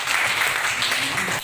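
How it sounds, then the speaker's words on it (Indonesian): Classroom applause for a classmate, a dense steady patter of many hands clapping at once, moderately loud and continuous for a moment before tailing off. "Beri tepuk tangan untuk teman kita."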